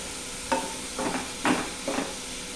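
Onions going into a pan of green chilies already frying, with a few soft scraping and stirring bursts over a low sizzle, close and moderately quiet.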